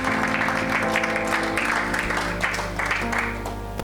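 A church congregation applauds and acclaims the Lord, a steady wash of clapping from many hands that goes on for a few seconds, with a little voice in the mix.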